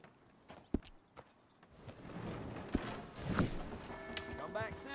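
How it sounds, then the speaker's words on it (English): Horse hooves clip-clop on the ground in the video game Red Dead Redemption, a few distinct steps and then a denser run, with someone talking over part of it. "That's a good horse."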